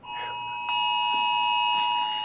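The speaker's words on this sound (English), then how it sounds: "Is that a fire alarm?" An alarm sounds during a lecture on information theory: a steady, loud multi-tone electronic ring that holds throughout and jumps louder partway in, with no speech over it.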